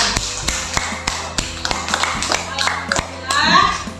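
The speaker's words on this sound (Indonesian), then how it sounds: "Tepuk tangan." Classroom of students clapping in scattered, uneven bursts, with sharp individual hand claps and taps close by and children's voices mixed in.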